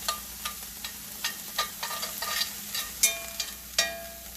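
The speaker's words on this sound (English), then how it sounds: "Now I'm going to take a little bit of minced garlic. Just going to take about a teaspoon. Throw it right in there, stir it around." Minced garlic, about a teaspoon, sizzles in a cast iron pan with onions as a spoon stirs it, producing repeated scraping knocks over a steady low frying hiss, quiet and close.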